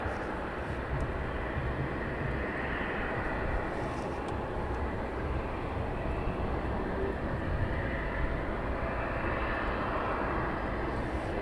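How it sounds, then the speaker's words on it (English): An aircraft taxis at East Midlands Airport at night, a steady, dense engine rumble and roar that holds evenly throughout with no break or talk. "It's the aircraft taxiing down"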